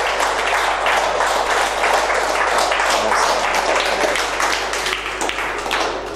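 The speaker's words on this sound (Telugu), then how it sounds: "జ్ఞానానికి చప్పట్లు." Sustained applause from a seated class audience at a soul-science lecture, many hands clapping in a thick even roar for around six seconds, easing slightly toward the end over a faint low hum.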